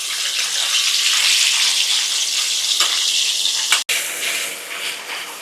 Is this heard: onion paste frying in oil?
yes